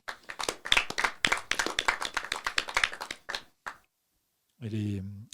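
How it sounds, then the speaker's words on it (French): A small audience breaks into brisk, uneven clapping that runs for a few seconds and then stops, followed by a brief voice after a short pause. "Vous pouvez l'applaudir."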